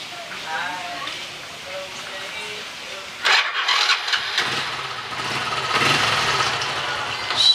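A small motorcycle engine starting off a Fujihama battery charger set to charging position: a sudden cranking burst partway through, then a rough, buzzing idle that continues, with talk heard before and over it.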